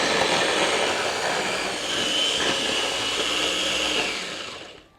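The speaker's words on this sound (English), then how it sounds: "Let's blend again." A blender whirs loudly and steadily, grinding a rendang spice paste with added oil for chicken rendang. The motor holds a constant roar, then winds down and stops at the end.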